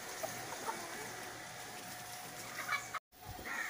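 Chickens in a poultry farm on a hot day, heard as scattered faint clucks and calls over a quiet background hum, with a brief dropout near the end.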